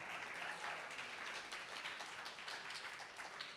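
An audience at a community talent show applauds, a steady wash of clapping from a crowd held at an even level throughout.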